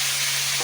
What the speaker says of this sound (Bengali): মিষ্টি চাটনি করবো, একটু নাড়াচাড়া করে নিলাম ভালো করে